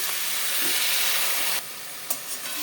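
A splash of water hits frying potato and cauliflower with spices, giving a loud steady sizzle and hiss that drops off abruptly partway through, followed by a couple of soft stirring clinks.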